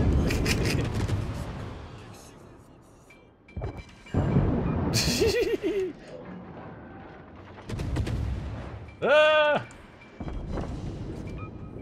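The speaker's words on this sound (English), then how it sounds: "We got torpedo impacts." Torpedo impacts striking a warship in World of Warships, heavy booming explosions and rumbling blasts scattered across the stretch, with a rising tonal alert and a voice talking over parts of it.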